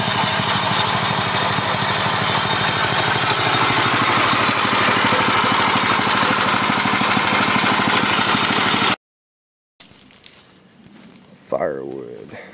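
A Wheel Horse garden tractor engine runs steadily with a loud, continuous mid-pitched drone for about nine seconds, then cuts to brief silence before quieter, muffled handling noise and some voice sounds follow.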